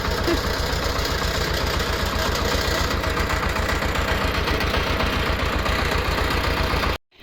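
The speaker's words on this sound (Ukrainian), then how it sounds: "Тарабанять сажалки." Potato planter rattling steadily while planting early potatoes in a field row, a loud continuous mechanical clatter with a rapid regular knock and engine-like drone, cutting off abruptly at the end.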